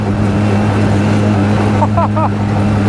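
An inflatable speedboat at top speed, about 24 knots, gives a steady, loud motor drone with water and wind rush throughout, and a few faint higher chirps near the end.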